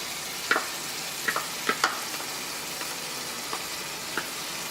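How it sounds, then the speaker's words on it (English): Cooked meat filling for Brazilian pastel sizzles steadily in a pan as tomato sauce goes in, with a handful of sharp spoon scrapes and pops punctuating the constant frying hiss. "now our meat is fully cooked and I'm able to add the other things. So we'll start with tomato sauce"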